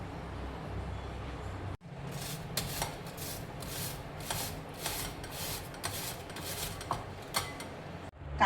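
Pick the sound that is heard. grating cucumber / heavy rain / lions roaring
grating cucumber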